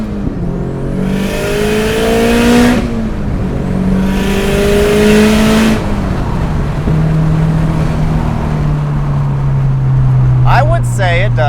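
A Subaru accelerates up a freeway hill, its engine note climbing in repeated surges with upshifts between them, a steady loud drone filling the cabin throughout.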